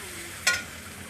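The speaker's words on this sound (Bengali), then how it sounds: "পেঁয়াজটাকে লাল লাল করে ভেজে আদা রসুন দিয়ে দিয়েছি" Onions frying with ginger and garlic in a pan over a wood-fired stove give a steady, soft sizzling hiss, broken once by a single brief scrape of stirring.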